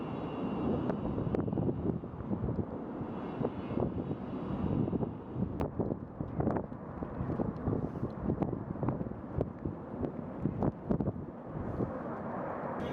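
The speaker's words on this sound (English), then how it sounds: "Su-34 with Su-30SM and Su-35S." Su-34, Su-30SM and Su-35S military jets pass over a Moscow Victory Day parade, a broad, rumbling roar of jet engines that stays steady throughout, mixed with wind buffeting and scattered sharp knocks.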